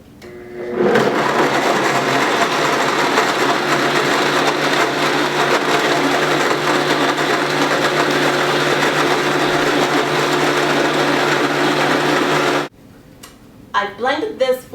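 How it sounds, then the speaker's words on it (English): A high-powered blender blending almond milk roars steadily for about twelve seconds, loud and close, then cuts off abruptly, leaving a brief moment of quieter voices. "So I'm going to go ahead and blend off my almond milk"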